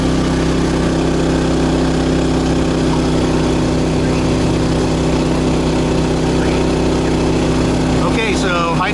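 A portable generator powering an RV runs steadily as it warms up, a loud, constant mid-pitched engine hum with a slightly rough idle, a brief clatter near the end.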